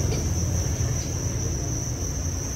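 Crickets at a cricket-raising farm keep up a dense, steady chirring chorus with a constant high-pitched trill, loud and unbroken throughout.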